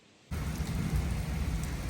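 Heavy rain begins abruptly over crop fields, then keeps up a dense, steady, loud hiss of falling drops with no voices.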